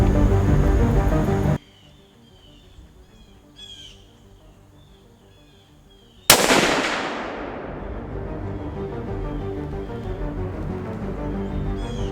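A single sharp rifle shot rings out while deer hunting, sudden and loud after a quiet stretch broken by distant crow caws, then rolls into a long fading echo across open ground.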